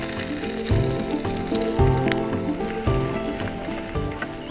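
Red onions fry fast in very hot, smoking oil in a pan, a loud continuous sizzle with rhythmic scraping and stirring strokes repeating about once a second, close and alone.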